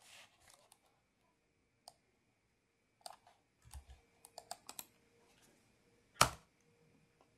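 Intermittent clicks of computer keyboard keys being typed and tapped during server software configuration, sparse and fairly quiet with irregular bursts and one sharper louder keystroke near the end.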